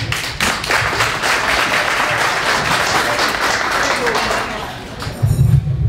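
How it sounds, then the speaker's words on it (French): A church congregation at the Assemblée Évangélique de Queens gives Pastor Marc warm, steady applause that carries on throughout, dense and fairly loud, with a few voices mixed in. "applaudir Pasteur Marc chaleureusement"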